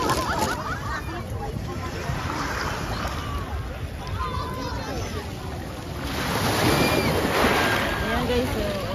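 Sea water at Brighton beach on a busy summer day, a steady wash of waves and surf with wind noise, swelling louder near the end, while people talk and chatter in the background.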